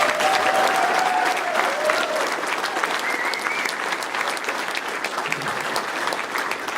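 Sustained applause from a crowd at a rally against the carbon tax, a dense, steady clapping that carries on for nearly seven seconds with a few faint voices mixed in.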